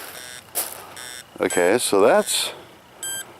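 An Amzdeal Smart Hunter metal detector gives a short electronic beep near the end, after someone speaks briefly over faint background noise.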